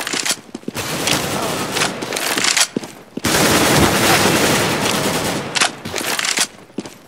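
Heavy automatic gunfire in competitive Counter-Strike: Global Offensive, loud rattling bursts that run almost continuously with brief pauses, close and dominant over faint voices.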